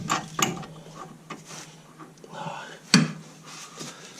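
A nut being threaded onto a tie rod end on a 2001 Volkswagen Golf Mk4 1.8T GTI, with close metallic ratcheting and turning clicks in a steady rhythm and one sharper clink partway through.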